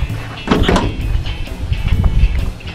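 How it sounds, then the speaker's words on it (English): Doors of a 1936 Dodge five-window business coupe street rod being opened and shut, giving a few close, solid thumps and latch clunks over a soft room background. "All the doors open and close real nice"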